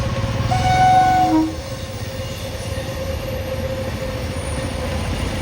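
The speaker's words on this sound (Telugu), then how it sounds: "పక్కనే ట్రైన్ వెళ్తుంది చూడండి, ట్రాక్" An Indian Railways train rolls along the tracks nearby, beside a road, with a steady rumbling clatter; a brief high wheel squeal rings out early before the loud rolling noise continues.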